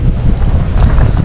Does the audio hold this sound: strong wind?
yes